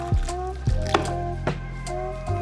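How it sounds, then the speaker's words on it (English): Stock poured into a pan while cooking a peach mango glazed turkey, several short wet splashes and drips in a quiet kitchen, spaced irregularly. "Now we're gonna pour some stock in there."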